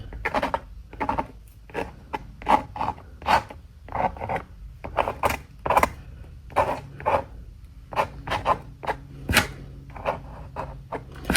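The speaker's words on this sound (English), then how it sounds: "go back to your card and just do some interesting scraping again" Card scraping wet watercolor paint on paper for a northern-lights winter landscape, a long run of short, close, dry rasping strokes in an uneven rhythm, with no talking.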